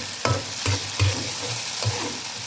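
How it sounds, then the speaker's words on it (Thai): A spatula scrapes and stirs rich coconut cream frying in a pan for a Thai stingray curry, with steady sizzling broken by five or six rhythmic scraping strokes, close and loud. "ใช้หัวกะทิผัดนะ"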